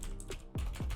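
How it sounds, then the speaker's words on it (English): Quick keystrokes rattle on a computer keyboard at close range, a few taps scattered through a brief moment with no talking. "Oh my God, I can't type."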